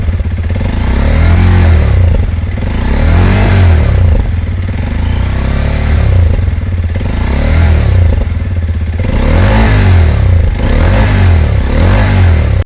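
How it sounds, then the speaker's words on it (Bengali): A TVS RTX 300 adventure motorcycle sits idling loudly up close, its exhaust note throbbing, with repeated rising revs swelling and falling back every couple of seconds. "চলো সাথে সাথে তোমাদেরকে এক্সস্ট নোটটাও শুনিয়ে দিচ্ছি"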